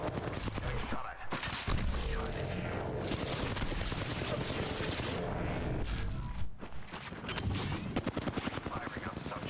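Rapid automatic gunfire from a shooter video game, dense sustained bursts with short pauses, loud and close, with a voice talking over parts of it.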